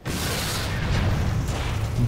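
A frag grenade blowing up in the shooter F.E.A.R. gives a heavy, sustained low boom that rumbles on for about two seconds, loud and close.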